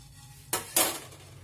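A metal pressure cooker is set down on a stove with two quick clanks close by, over a quiet room.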